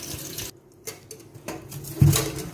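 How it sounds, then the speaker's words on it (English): Stockfish is rinsed under a running kitchen tap, with water splashing and gurgling in the sink, broken by brief pauses and a louder close splash near the end. "I'm also going to be washing my stockfish"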